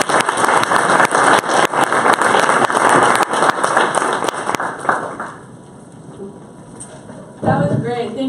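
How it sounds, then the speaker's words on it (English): An audience at a youth social change panel event applauds with dense, sustained clapping that fades out, followed by a brief burst of voices at the end. "Can we give another round of applause"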